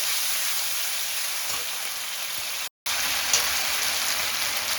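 Cumin paste and tomato paste sautéing in hot oil in a pan, giving a continuous close hissing sizzle with a momentary break partway through.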